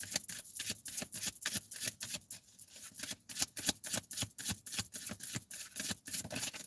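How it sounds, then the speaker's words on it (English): A deck of tarot-style oracle cards is shuffled and pulled, giving a quiet, close run of rapid riffling flicks and soft card slaps in a steady rhythm. "Let's pull some more of these cards."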